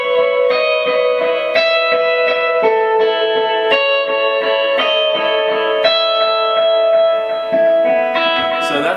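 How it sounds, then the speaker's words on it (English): Electric lead guitar played through delay and reverb effects, clear sustained melodic notes ringing into one another with spacious echoing tails, loud and alone without talk. "then you throw on the delay and reverb, and that's what gives it its spacey kind of sound."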